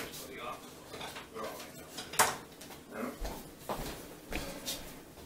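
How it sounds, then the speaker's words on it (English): A metal spoon is fetched for a dandelion tincture, with cutlery and dishes clattering in a few sharp close clinks, one louder clank midway, amid faint background rustle. "Let me get a spoon here."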